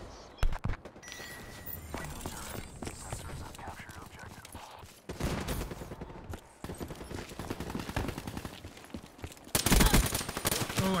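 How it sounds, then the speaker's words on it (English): Gunfire in the video game The Division plays in repeated bursts across the whole stretch, loud and dense, mixed with game sounds and heavy overlapping noise. "Stop shooting."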